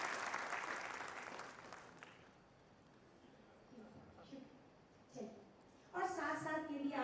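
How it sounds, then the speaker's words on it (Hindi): Applause from an audience at a Hindi song performance fades over the first couple of seconds, leaving quieter room sound with scattered voices before a sung or spoken voice enters near the end. "एक बार जोरदार तालियां हो जाए।"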